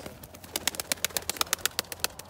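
Pigeons cooing in a garden, a rapid series of about twenty short, evenly spaced pulses close by, with no voices over it.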